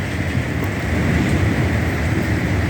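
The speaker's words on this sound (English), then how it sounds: "it's raining fairly heavily" Heavy rain pours steadily during a thunderstorm, a dense continuous hiss close by with no distinct thunderclaps standing out.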